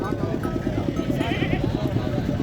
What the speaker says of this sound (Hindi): इसके अलावा और भी बच्चों वाली बकरियां मैं आप लोगों को दिखाता हूँ।